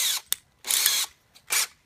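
A power drill with a countersink bit bores into wood on a wooden safe project, giving three short whirring bursts of under half a second each, separated by quiet gaps, close and alone.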